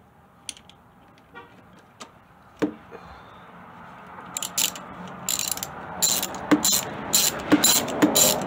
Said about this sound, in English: I had to get my ratchet together.